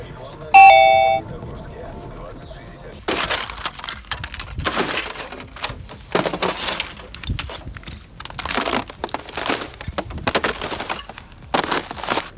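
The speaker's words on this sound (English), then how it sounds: "the natural sounds of this ice shattering are way better than any edited background music" Ice shattering on a snowy winter road in Magnitogorsk comes in a series of sharp, loud crunching and cracking bursts separated by quieter gaps, preceded by a brief bright chime.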